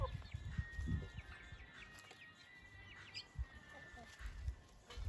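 Chickens cluck and murmur close by inside a henhouse, with scattered chirps and small scratching sounds around them, a busy coop scene.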